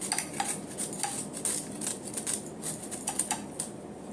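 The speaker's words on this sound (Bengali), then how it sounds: "এইবারে এটা হচ্ছে টক আম, কাঁচা কাঁচা আম, ওটাকে গ্রেট করে নেব।" Raw sour mango is grated by hand in soft, quiet scraping strokes with an uneven rhythm, like light clicking and rasping close by, with no talk.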